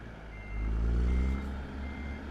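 Kenworth truck with a 72-inch sleeper reversing in American Truck Simulator, a steady low engine rumble with a faint repeating backup beep tone above it, continuous and fairly close, no voices.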